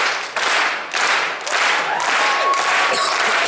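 Clapping from a keynote audience at a creator convention, in loose rhythmic bursts that roughly keep a steady beat, fairly close and loud, with slight crowd murmur.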